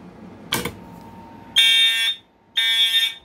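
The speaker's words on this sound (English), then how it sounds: "You can kind of hear the alarm." An Edwards Integrity/Genesis fire alarm system sounds after a pull station test: a sharp click, then two loud, steady tone bursts about half a second each, separated by a brief gap.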